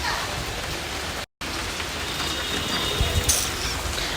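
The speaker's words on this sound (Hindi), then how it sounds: "बारिश हो रही है।" Heavy monsoon-style rain pours steadily outdoors as a continuous dense hiss, briefly cut off once, with no talking over it.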